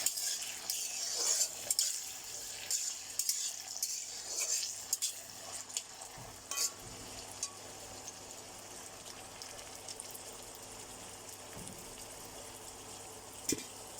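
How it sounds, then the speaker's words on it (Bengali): Boiled potato pieces frying in a wok, with a steady sizzle and clinks and scrapes of a spatula stirring against the pan, busier at first and then settling into a quieter fry. "এটাকে আমি এখন লাল লাল করে ভেজে ফেলবো।"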